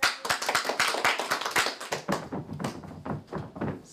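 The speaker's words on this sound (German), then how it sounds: "Achtmal klatschen und dann achtmal stampfen" Sharp claps ring out in a quick, even run, followed by heavier thumping beats in a steady rhythm, close and clear with no talk over them.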